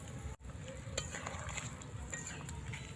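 Semolina sweets are stirred in bubbling sugar syrup in a pan, a soft, continuous simmer with faint scraping and light ticks from the stirring, quiet and close.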